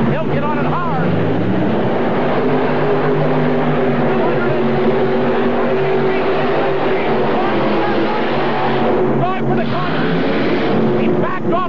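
Pulling tractor at full throttle during a 1986 NTPA Indy Super Pull, a loud, continuous roaring engine with shifting pitch, with an announcer talking over it.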